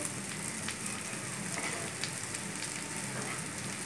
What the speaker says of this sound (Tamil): எவ்வளோக்கு எவ்வளோ வந்து நீங்கள் ஃப்ரை பண்ணுறீங்களோ அந்த அளவுக்கு நம்மளுக்கு கிறிஸ்பியாக கிடைக்கும்